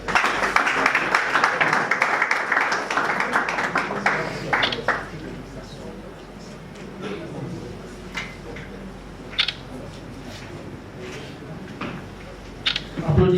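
A political party gathering's crowd breaks into dense applause that dies away after about five seconds into scattered claps and quieter murmuring. Someone speaks over it.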